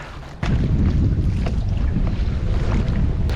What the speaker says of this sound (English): Ah, this wind, man. Oh, fighting a pretty strong headwind.